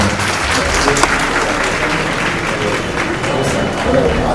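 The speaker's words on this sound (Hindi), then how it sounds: "मैं तालियों के साथ डॉक्टर शमीम मोहम्मद साहब को आवाज़ दे" Audience applause at a hospital inauguration, a sustained crowd clapping that stays loud and dense throughout, with faint voices mixed in.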